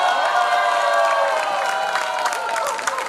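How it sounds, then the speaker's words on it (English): An audience at a Class of 1996-97 reunion breaks into applause and cheering, with clapping and whoops from the crowd filling the room for about three seconds at moderate volume. "Round of applause for Mandakri Rehra."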